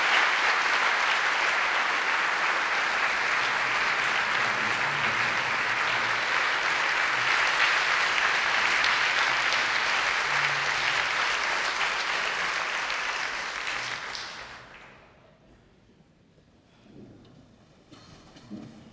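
Loud, dense audience applause in a Baku concert hall welcomes an orchestra conductor to the stage, sustained and steady before fading out near the end.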